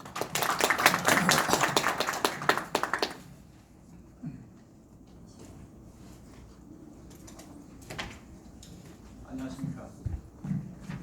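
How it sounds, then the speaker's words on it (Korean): Audience applause at a shareholders' meeting, a burst of clapping for about three seconds that stops abruptly, followed by quiet room tone with faint scattered noises. "박수로 맞아 주십시오."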